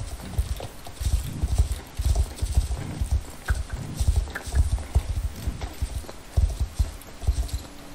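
Horse hooves clip-clop in the Star Stable video game, a loud close rhythmic stream of steady hoofbeats at a trotting pace with no talk over them.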